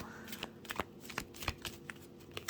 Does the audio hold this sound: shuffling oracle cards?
yes